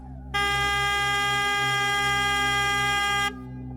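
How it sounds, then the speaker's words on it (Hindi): A taxi horn in a Hindi cartoon horror story blares on its own in one long, loud, continuous honk lasting about three seconds over a low background hum. "उसकी टैक्सी बाहर अपने आप स्टार्ट हो गई और हॉर्न अपने आप बजने लगा।"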